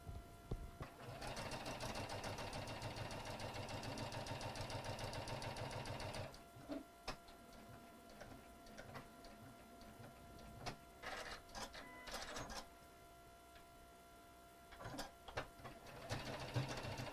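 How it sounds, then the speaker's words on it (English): A sewing machine stitches around a Christmas stocking, running in a fast steady whir for several seconds, then stopping and giving way to short clicks, rustles and bursts of handling noise. "let's go over to the sewing machine, and we're going to sew this all the way around"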